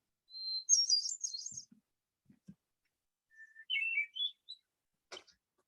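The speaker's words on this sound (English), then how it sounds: "does anyone know the bird that I just played there?" Recorded birdsong played back at dawn: a few bright chirping phrases and whistled notes in short bursts separated by quiet gaps, fairly clear and alone with no talking.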